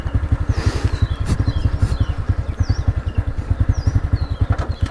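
Motorcycle engine thumping at idle as it is put into gear, a close, steady, rapid pulsing beat with faint chirping in the background.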